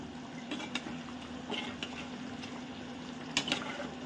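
Small onion fish curry simmering in a covered pot, a low steady bubbling hum with a few soft pops and faint clicks, close and fairly quiet, no voices.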